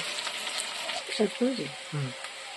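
Boiled taro and spinach poured into onions frying until reddish-brown for a taro ghonto, giving a steady sizzle with a short splash as the greens land, while someone talks over it.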